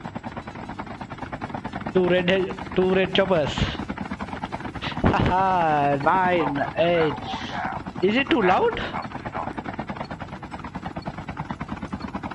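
Helicopters whir over a match in the mobile shooter COD Mobile, played on an emulator, a steady rotor drone that runs beneath someone talking for most of the clip.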